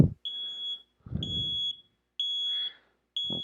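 A device alarm sounds in a repeating pattern of four shrill, evenly spaced beeps roughly one second apart, close and clear, with soft rustling before each tone.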